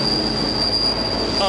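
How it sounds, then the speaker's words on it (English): A train pulling into a station with loud, sustained metal wheel squeal over steady rumbling rail noise, close by and continuous throughout. "Ooh, the train!"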